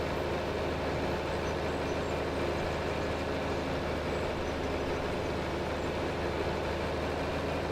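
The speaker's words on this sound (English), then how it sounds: "There's the train." A continuous low rumble of a passing train rolls on steadily in a rural farming video game, a broad, even roar with no talk over it.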